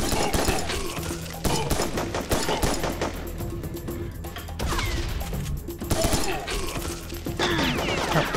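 Rapid video-game gunfire as full clips are emptied into a missile-type enemy in Serious Sam 3, heard as dense, loud bursts of shots with crashing impacts layered over a busy game soundscape.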